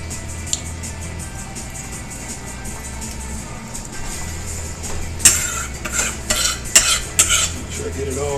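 Stirring minced garlic into a pan while cooking a Parmesan garlic flounder, with a utensil clinking and scraping against the pan in a quick cluster of metallic taps over a low steady background hum.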